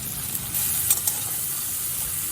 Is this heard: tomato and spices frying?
yes